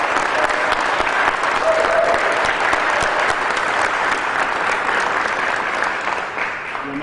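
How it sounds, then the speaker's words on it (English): A crowd at a public transit announcement breaks into loud, sustained applause, dense continuous clapping that holds steady for several seconds before tapering slightly. "they at least deserve another round of applause"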